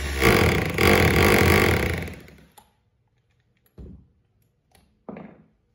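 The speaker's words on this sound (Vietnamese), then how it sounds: "Khoan bê tông đây." Rotary hammer drill in drilling mode boring into concrete, a loud harsh whir for about two seconds that stops abruptly, followed by a few faint clunks and knocks of handling.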